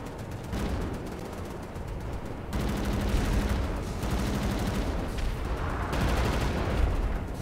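Machine gun nest fire in the shooter Wolfenstein: The New Order, a sustained rattle of rapid gunfire bursts amid battle noise, steady and fairly close.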